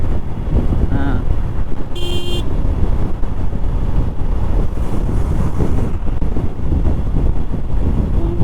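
An express bus passes on an Indian highway, heard from a moving motorbike amid steady wind and road roar, with a short horn toot early on; a voice speaks briefly.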